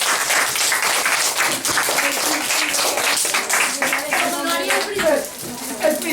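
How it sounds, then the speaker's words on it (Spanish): A class of children in a fourth-grade classroom with a Santa visit bursts into sustained applause, many small hands clapping densely and close, mixed with excited kids' voices and chatter throughout. "¡Hay un aplauso para Blanca!"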